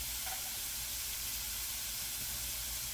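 Onion sizzling in steak drippings in a hot pan, a loud, close, continuous hiss and crackle with no break across the short stretch; no voices.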